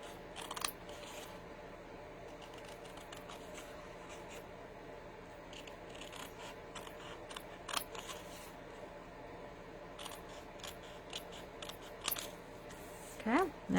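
Scissors cut straight lines along a paper border for a handmade card, giving irregular crisp snips and paper rustles spread throughout, close and fairly quiet over a steady low hum.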